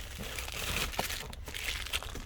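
Bubble wrap and a plastic bag crinkle and rustle steadily as a replacement flasher hazard switch for a 2000 Chevy Monte Carlo is unwrapped, a continuous close crackling with a few sharper crunches and no talk.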